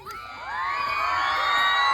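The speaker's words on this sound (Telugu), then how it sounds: "ఈ పాట నచ్చితే మీరు అందరూ కెవ్వని కేకేయచ్చు" A crowd of audience members, many of them children, breaks into rising shouts, whoops and cheers after a Kuchipudi dance performance, swelling quickly from quiet to a loud, sustained roar.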